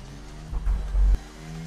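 A Formula 1 car in the F1 23 game at Monaco, heading into the pits: a low steady engine hum with a brief louder rumbling surge in the middle, then settling back.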